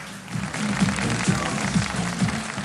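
A crowd in a TV studio applauds steadily for a few seconds, dense clapping with a low rhythmic murmur underneath.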